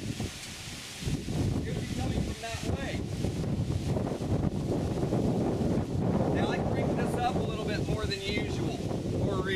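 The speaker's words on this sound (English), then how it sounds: "Industrial size fan." An industrial-size fan blows a steady, loud rush of air with rumbling gusts, continuous throughout, with no talk.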